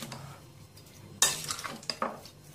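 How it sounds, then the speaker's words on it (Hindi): Utensil stirring a strawberry jam mixture with lemon added in a bowl, several scraping, clinking strokes close by, the loudest burst midway followed by a couple of shorter stirs. "अब अच्छी तरह से इसको मिक्स कर लेते हैं"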